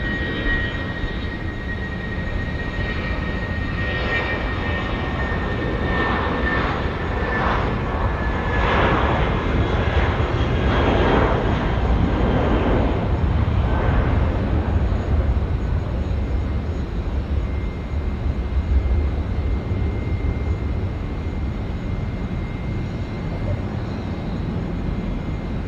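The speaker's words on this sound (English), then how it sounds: "Jetstar service now off to Christchurch." Jetstar airliner taking off at Auckland Airport bound for Christchurch, a loud sustained engine roar with rising whine, rumbling steadily for the whole stretch, heard from a spotting position nearby.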